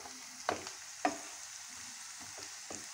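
A tempering for green bean pickle is stirred in a hot pan, with two distinct scraping strokes over a soft continuous sizzle and a few lighter stirs after.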